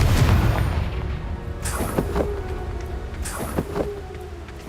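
A Confringo explosion spell goes off in Hogwarts Legacy as a heavy, loud boom with deep rumble, followed by a few sharper cracking impacts and lingering low reverberation.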